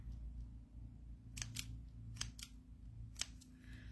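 Scissors snip paper ribbon while a card bow is trimmed, several short, crisp cuts in uneven succession over a low steady room hum, close and fairly faint.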